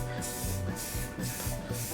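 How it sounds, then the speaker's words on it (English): A can of black spray paint hisses in short repeated bursts over a barnwood bar top, fairly close and fairly faint. "A quick coat of black spray paint is complete."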